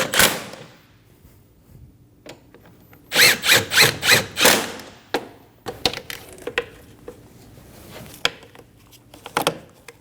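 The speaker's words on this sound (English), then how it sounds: "Snug down the 2 bolts." A ratchet snugs down two transmission mount bolts on a 2012-2022 Volkswagen Passat, with quick bursts of rapid clicking mid-clip, then scattered lighter knocks and taps in a quiet garage.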